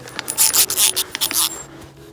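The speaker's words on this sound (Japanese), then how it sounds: "12のソケットレンチで外します" A 12 mm socket wrench works loose the brake caliper bolts on a Honda FTR223 motorcycle's front end, giving a close series of rapid ratcheting clicks and scraping strokes that stop near the end.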